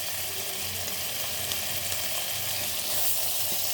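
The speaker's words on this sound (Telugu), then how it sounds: "ఇందులో మనము అల్లం వెల్లుల్లి పేస్ట్ వేసుకోవాలి." Ginger garlic paste sizzles in hot oil after onions, giving a dense, even hiss that holds steady for a few seconds, close and moderately loud, with faint stirring underneath and no speech.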